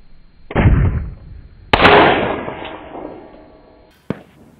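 An AR-15 T-91 piston-driven rifle fires 62-grain rounds at a 700-yard range. Two loud, sharp reports ring out a second apart, each with a long decaying echo, and a fainter distant crack follows near the end.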